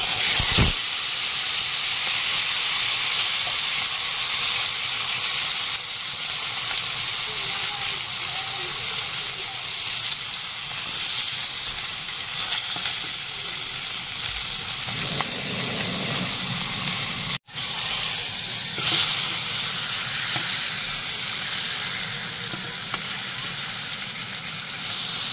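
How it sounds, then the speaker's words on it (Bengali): Pomfret fish frying in hot mustard oil, a steady loud hiss and sizzle running continuously, with a brief dip and a sharp break partway through. "মাছটা এবার ভেজে নেব। সরিষা তেল, তেল গরম হয়ে গেছে।"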